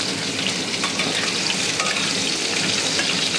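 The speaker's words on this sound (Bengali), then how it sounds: "আলুগুলো ভেজে" Potatoes frying in a pan give a steady, dense sizzle with occasional stirring scrapes, close and continuous throughout.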